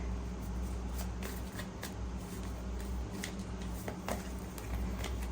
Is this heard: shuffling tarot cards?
yes